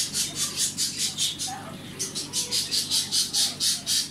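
Caged birds at a bird market in Antalya, Turkey, chirp in quick rhythmic bursts, a repeated pulsing series that pauses briefly midway and then resumes, with a low murmur of market background underneath.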